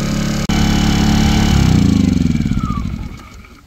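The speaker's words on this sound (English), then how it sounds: "When you do put this under load though, it'll run at full load and it is a little bit noisier than this." A petrol alternator-generator runs with a loud, steady engine drone close by, its pitch wavering slightly and then easing down toward the end, with no talking.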